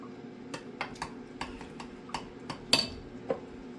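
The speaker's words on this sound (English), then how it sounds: "You're going to mix this really, really good." A utensil clinks and scrapes against a bowl while a lemon sauce is mixed, giving a series of light, irregular ticks over a low steady hum.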